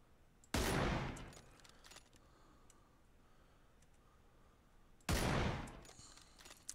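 Two loud sniper rifle shots ring out in PUBG several seconds apart, each a sharp crack with a decaying tail, separated by quiet background ambience.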